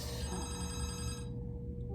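A telephone rings with a bright, repeating electronic tone layered over a low background hum, then cuts off abruptly partway through, leaving quieter room noise behind.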